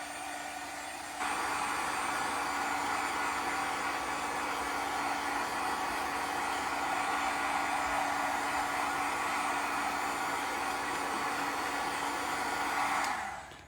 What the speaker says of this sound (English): So I'm just going to give it a little shot with the heat gun.